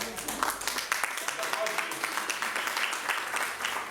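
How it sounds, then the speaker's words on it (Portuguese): An audience at a church leadership-school session applauds, a steady dense patter of many hands clapping that continues evenly through the whole stretch, fairly close and fairly loud. "Enquanto vocês nos aplaudem"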